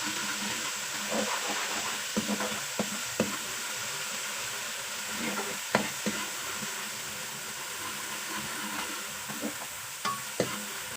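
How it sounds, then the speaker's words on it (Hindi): Tomatoes added to a pan with ginger-garlic paste, frying and sizzling steadily while being stirred, with a continuous hiss and scattered scraping clinks of the spoon against the pan, close and moderately loud. "थोड़ा सा भूना कर लेकर टमाटर शामिल कर दी"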